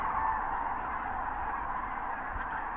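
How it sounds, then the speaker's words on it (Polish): Wounded goose honking steadily while white-tailed eagles attack it in the Warta Mouth National Park wetlands, a continuous close, loud chorus of nasal honks lasting throughout. "W materiale zebranym przez Piotra Hare widzimy na przykład, jak bieliki atakują ranną gęś, symbol Parku Narodowego Ujście Warty."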